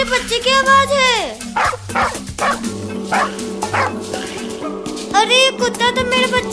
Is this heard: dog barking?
yes